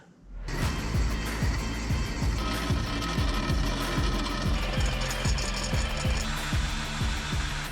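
Metal parts for a dump truck scissor hoist kit being drilled in a shop, a steady loud machine run with rapid, regular mechanical pulses continuing throughout, no talking.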